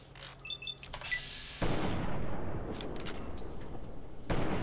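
A single heavy sniper rifle shot in Fallout New Vegas fired at a cazador, a sudden loud boom with a long rumbling tail, then a second sharp report near the end.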